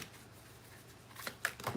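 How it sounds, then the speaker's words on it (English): Tarot cards being shuffled, heard as a few quick, soft papery riffles clustered near the end of an otherwise quiet stretch, with no talking. "Shuffle 3 times."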